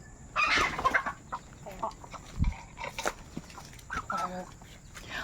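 Pet chickens cluck and murmur close by in a series of short, scattered calls, with a few soft background noises between them.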